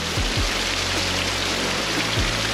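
Rain falls on a horse pasture as a steady, close, broadband hiss, with a faint low hum and occasional soft thuds underneath.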